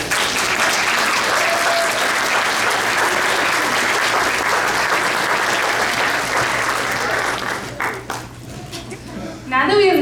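Audience applause at a nursing school pinning ceremony in Madera, California, a dense sustained clapping from a large crowd that fills the hall, thinning out and fading in the last couple of seconds.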